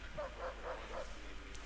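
A dog in Assassin's Creed III barks four times in quick succession, faint and somewhat distant, over a low background hum.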